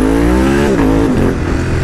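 An 821 Stealth motorcycle with an electronic gearshift revs loudly and close by. Its steady engine tone dips in pitch partway through, as if shifting, then carries on.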